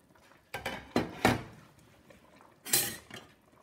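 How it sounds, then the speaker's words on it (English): A spoon scoops speckled butter beans cooked with a ham bone out of a pot on the stove, with several clinks and scrapes of metal against the pot, close and spaced apart. "we want to spoon some out"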